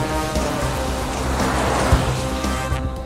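Rain pours steadily during a movie scene where a car is out in the weather, producing a dense, even hiss of falling water that fills the whole moment without any voices.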